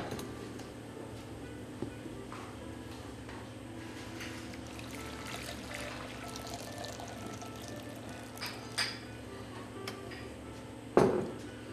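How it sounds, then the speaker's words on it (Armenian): Water is poured into a cooking pot in a soft, steady trickle over a quiet kitchen background, followed by a few light knocks and a sharper clatter near the end. "կաթսայի մեջ ջուր ենք լցնում"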